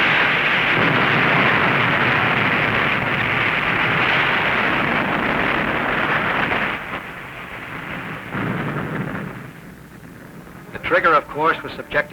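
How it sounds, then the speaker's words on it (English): An underwater depth charge explosion from a 1946 wartime submarine film rumbles as a loud, sustained roar for about seven seconds, then fades into lower turbulent noise, with a voice briefly heard near the end. "The trigger, of course, was subjected to another terrific depth charge."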